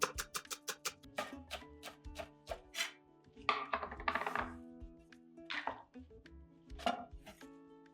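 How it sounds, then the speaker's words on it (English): A knife chops two bunches of scallions on a cutting board, a close run of sharp, quick taps with a few short pauses. Another burst of denser chopping follows, with some faint clatter between the strokes. "Chop 2 bunches of scallions."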